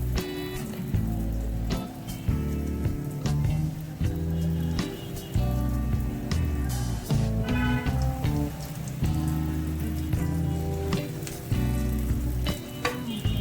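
Chicken potato cutlets, egg potato kababs coated in bread crumbs, fry in a hot pan with a steady, even sizzle that continues under prominent background music.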